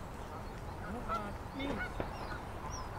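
Geese honking outdoors in Whittier, California, with pigeons nearby: a few scattered nasal honks and calls over a steady murmur of background noise, moderately distant, no talking.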